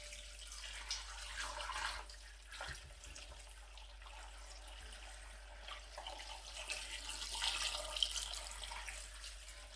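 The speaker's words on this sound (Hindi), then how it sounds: "तमाम चीज़ें डालने के बाद बीच में पानी ऐड करूँगा।" Water poured into a cooking pot of beef paya; a soft, continuous splashing and trickling pour, fairly faint and close, swelling slightly toward the end over a low steady hum.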